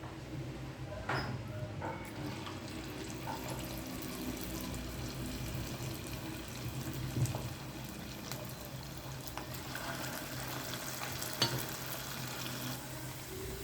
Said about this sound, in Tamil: பெரட்டி வச்சு காலிஃப்ளவரை எடுத்து எண்ணெயில் போட்டு எடுத்துடலாம்.